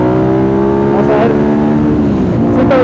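A Ducati Multistrada 1200 motorcycle engine pulls hard under acceleration, a loud steady drone with rising pitch across gear changes, heard up close from the rider's position along with rushing wind.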